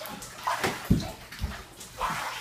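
Hot bath water sloshing in a tub, a few separate splashes and swishes at moderate volume with quiet gaps between them, and no clear speech.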